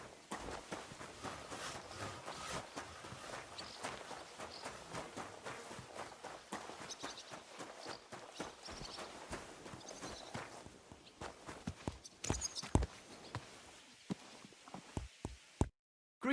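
Horse hooves clip-clop in a steady gait in the medieval video game Kingdom Come Deliverance II, close and fairly prominent, the rhythm breaking into a few separate heavier thuds near the end with brief silences.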